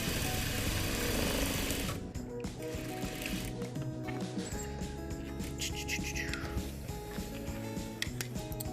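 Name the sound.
sewing machine stitching a face mask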